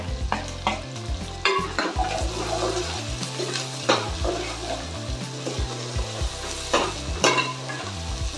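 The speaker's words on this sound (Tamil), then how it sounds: "சோம்பெல்லாம் லைட்டாக பொரியும் போதே டக்குன்னு வெங்காயத்தை போட்டு" Sliced onions dropped onto fennel seeds frying in hot oil for a coconut milk crab gravy, a close, steady sizzle broken by repeated scraping stirs and clanks of a spoon against the pan.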